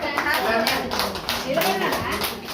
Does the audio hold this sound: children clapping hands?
yes